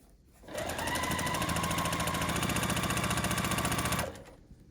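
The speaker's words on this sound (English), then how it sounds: "And sew across with a 1/4 inch seam allowance." Sewing machine running a 1/4 inch seam across quilt block pieces: a close, loud, evenly pulsing whir that starts abruptly, holds steady for about three and a half seconds, then stops.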